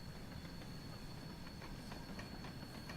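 A train in Train Sim World 3 on the Peak Forest Railway rolls steadily with a constant rumble and faint rhythmic clicks of wheels passing over track joints, a thin whine running along the top, no voices.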